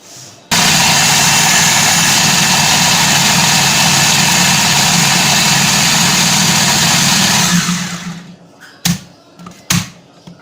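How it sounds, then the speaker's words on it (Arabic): A loud, steady motor whine of an electric hand mixer beating ingredients for homemade sweetened condensed milk, running continuously for several seconds, then stopping, followed by a few knocks. "وهضربهم ضربه كويسه كده بالكبه بتاعتي."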